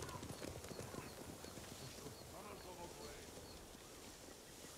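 Hooves clip-clop steadily in a Ghost of Tsushima scene, fairly faint, with a low murmur of background ambience.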